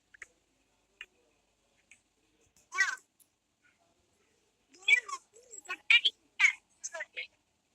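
Cat meowing in the Minecraft video game, a few short scattered game sounds followed by a cluster of clear meows close together, with someone speaking briefly.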